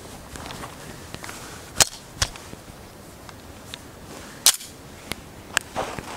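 Handgun shots fired at targets outdoors, several sharp cracks spaced unevenly over a few seconds, fairly distant and moderately loud, with softer clicks and handling noises between them.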